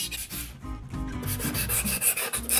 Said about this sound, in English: we're gonna take our 100 grit sandpaper